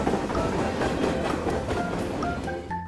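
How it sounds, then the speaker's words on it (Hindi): A train rolls along the rails at a railway station, a steady close rumble with clattering wheels and faint squealing tones near the end. "एक रेलवे स्टेशन में जब ट्रेन जा रही थी"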